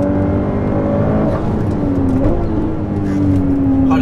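The V12 engine of a Ferrari sports car hums loudly from close range as the car drives, its tone holding steady and then dipping and climbing again in a smooth rev beneath cabin rumble.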